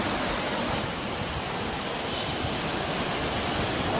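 Charpa waterfall in Kerala pours down in a loud, dense, unbroken roar of rushing water, steady throughout and close by, with no voices over it.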